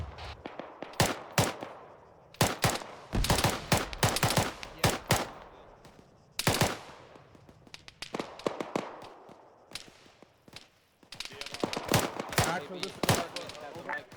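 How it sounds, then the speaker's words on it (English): Autocannon fire in an Arma-style military game, with repeated sharp bursts and rapid volleys spread across the clip, alongside other gunfire, and people talking over radio chatter in between. "That's a fucking autocannon."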